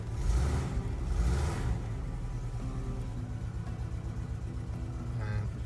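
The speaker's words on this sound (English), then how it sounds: "Normally settles to quite a rough idle" A VW T25 campervan engine ticking over at a rough idle, a steady low rumbling drone after a couple of louder revs at the start, heard fairly close with no voices.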